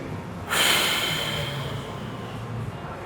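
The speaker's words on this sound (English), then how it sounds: "and then I'm gonna breathe in deep" A single deep, noisy inhale through the nose during a home bodyweight MMA workout, starting suddenly and sharply, then tapering into a long steady rush of air, close and fairly loud, with no talking.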